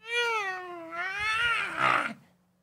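A voice imitates a cat's meow, a drawn-out, tonal mew that rises and bends, then ends in a rougher, raspy flourish before cutting off; close and loud, with no other talking.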